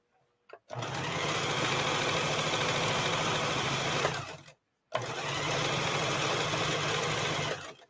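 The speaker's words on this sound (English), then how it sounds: "Right now, my serger is only serging 3 sides" A serger sewing machine runs at full speed in two long bursts of rapid, buzzing mechanical whir, stopping briefly between them, close and steady with no talking.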